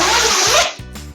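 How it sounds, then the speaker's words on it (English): A zipper on a thick parka-style FIFA World Cup Qatar 2022 volunteer raincoat is pulled in a few quick, loud, close rasping strokes that stop abruptly. "zip."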